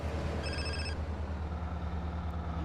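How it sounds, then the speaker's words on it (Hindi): A mobile phone rings in GTA San Andreas, a short electronic ring tone over the steady low rumble of a vehicle engine, fading into continuous road noise. "अरे ये फोन वाइब्रेट कर रहा है"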